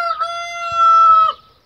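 A Brahma rooster gives a single clear crow of about a second and a half, loud and close, with a brief rising onset and a sustained strained call that cuts off sharply, with no talk around it.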